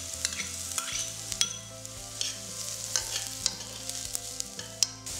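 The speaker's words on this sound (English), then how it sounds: "Fry them till it's fragrant." Mushrooms stir-frying in a pan for Taiwanese minced pork rice, a steady soft sizzle with light scraping and stirring clicks throughout, close and fairly quiet with no talk.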